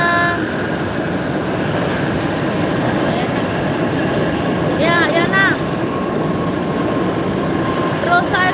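A metro train ride: a steady, loud rumble of the rail car with a brief horn or wheel squeal near the middle and another near the end. Muffled voices sit under the noise.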